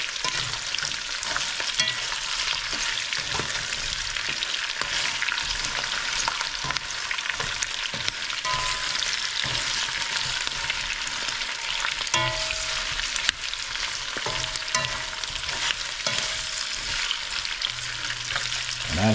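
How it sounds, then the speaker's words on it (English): Pork belly with brown sugar fries in a hot pan as the sugar melts and caramelizes, a dense continuous sizzle with occasional stirring clinks and pops, steady and close without talk. "And we're going to give it a stir. And let that sugar melt and caramelize."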